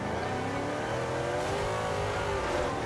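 Italia car engine in the racing game Forza Horizon 2, revving steadily with a rising, sustained engine drone, moderately loud and without talk.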